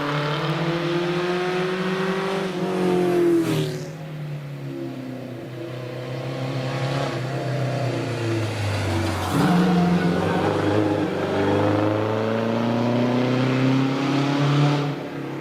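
Riley Special race car with a 1500cc engine at a British Championship hill climb practice at Prescott, its engine droning steadily with rising and falling pitch as it revs through gears, loud and continuous with a brief dip partway.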